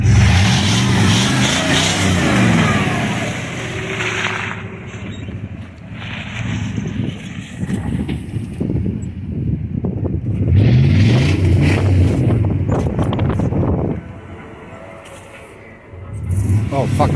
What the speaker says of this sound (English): I'm gonna drive up there in four-wheel drive and see if she works